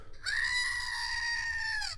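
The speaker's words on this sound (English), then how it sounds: "We got Fred the Screaming Goat" A single long, harsh screaming-goat sound effect, loud and close with reverb, holding steady for nearly two seconds before cutting off.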